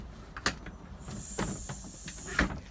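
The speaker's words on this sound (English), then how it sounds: "So go ahead and shut our door." A school bus door shuts during a pretrip inspection, with a pneumatic hiss and a couple of sharp mechanical clunks, close and moderately loud.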